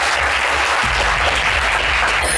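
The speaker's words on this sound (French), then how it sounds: "Moussa, déjà, on va vous applaudir" Loud, dense applause from a French-language TV game show studio audience for a contestant, continuous and close with a low rumble underneath, sustained without talk.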